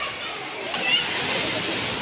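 Water falls steadily at a water park in Kolhapur, a continuous broadband rushing that holds even and fairly loud for the whole stretch, with a slight swell near the middle.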